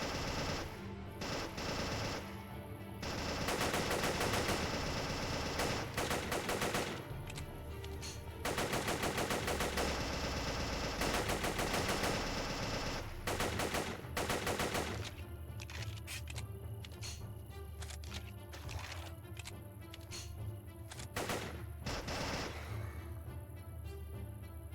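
Video game gunfire in Grand Theft Auto V: sustained rapid automatic bursts, loud and dense, with short pauses between volleys and overlapping shots throughout, fairly close with no talking.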